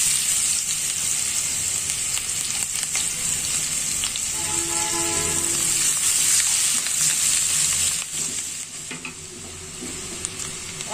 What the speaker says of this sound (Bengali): ওই তেলে এখন আমি পেঁয়াজ ভেজে নেব।